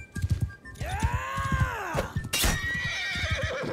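A horse in the medieval combat game Bannerlord lets out a long, loud whinny, with clip-clopping hooves and battle thuds pounding rhythmically around it.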